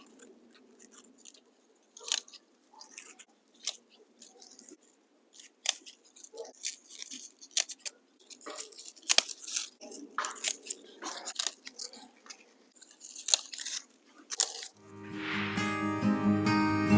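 Zinnia flower stems cut during a fall cut-flower harvest, giving irregular close snips and crunchy rustles from the stems and foliage, ending in a louder tonal noise.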